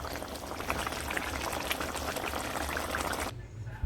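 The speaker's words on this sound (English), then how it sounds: "now I'm gonna let this just boil for 2 minutes" Cow foot stew boils in a pot with a dense, steady bubbling and simmering close by, continuing evenly until it quiets abruptly near the end.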